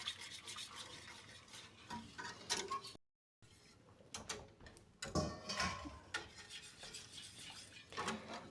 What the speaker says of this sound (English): And you just keep stirring.